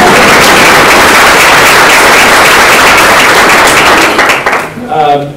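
Audience applause at a breakfast event, loud dense clapping that carries steadily before tapering off at the end as a voice begins.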